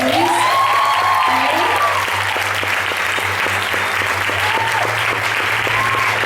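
An audience at an Easter theatre show in a cultural venue applauds steadily, a broad wash of clapping over a low hum, with faint voices and tones mixed in.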